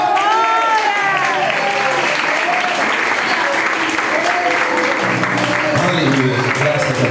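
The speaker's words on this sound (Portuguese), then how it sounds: "Você pode aplaudir Jesus?" A church congregation applauds during a service, with steady, loud clapping throughout and voices calling out over it.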